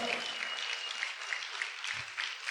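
A church congregation claps loudly and steadily at a worship service, a dense wash of applause with faint voices mixed in.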